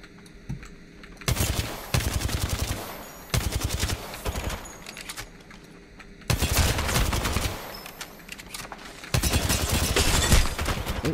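Repeated bursts of automatic gunfire in Apex Legends, loud and close, arriving in several separate volleys with short gaps between them and continuing through to the end.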